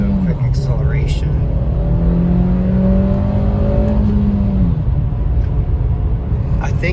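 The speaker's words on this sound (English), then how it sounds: "Do a quick acceleration." A 2023 Nissan Versa S with a manual gearbox accelerates from inside the cabin, its engine drone rising in pitch, dropping at a gear change, then climbing again under loud road noise, while a voice talks over it.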